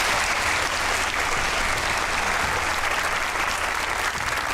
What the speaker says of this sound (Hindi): ताली होनी चाहिए गिलानी साहब की।